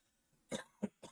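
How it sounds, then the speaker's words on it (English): Three short, sharp coughs close by, the first loudest, in quick succession after a moment of near silence. "Still got a cough."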